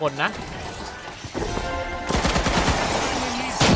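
Guns fire in The Finals shooter game, with dense, loud bursts of shots layered together, while a player talks over the action.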